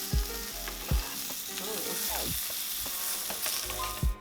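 Halloumi cheese sizzling in a frying pan as the pieces are flipped, a steady close hiss of frying broken by a few sharp clacks and scrapes of the utensil against the pan.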